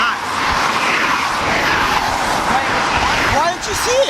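Honda Integra engine with suspected rod knock and overheating revving steadily, a loud continuous roar with a rising whine near the end.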